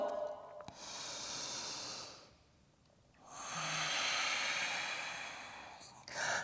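Deep, slow breathing during a power yoga session: a long airy inhale, a brief quiet pause, then a long exhale, with another breath starting at the end, close and alone.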